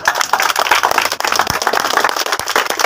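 An audience claps at an outdoor magic show, a loud, dense patter of many hands mixed with crowd noise and the odd sharper clap.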